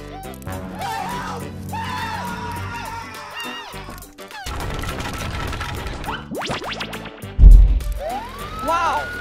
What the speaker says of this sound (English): Wow! It's an ambulance!